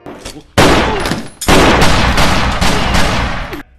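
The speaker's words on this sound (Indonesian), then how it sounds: "Akhirnya ia membantai mereka dengan sebuah pistol di tangannya." Loud, sharp pistol gunshots crack in close succession, blasts blurring into one another with a brief gap between two volleys.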